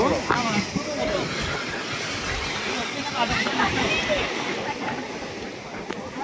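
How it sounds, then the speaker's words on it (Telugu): Steady rushing water from a waterfall pours and splashes nearby, a dense constant roar with voices talking over it. "చూసాం నీళ్ళు ఎట్లా పడుతుంది"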